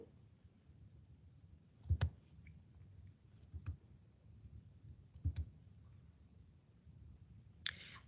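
A computer mouse clicks quietly a few separate times at irregular intervals against a faint background, with no one talking.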